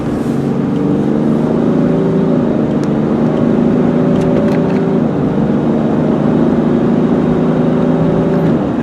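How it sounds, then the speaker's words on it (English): A 1997 Ford Explorer XLT engine runs steadily while driving in overdrive at about 50 mph, a continuous low hum with a few faint clicks over the top and no one talking. "You heard how good the engine is."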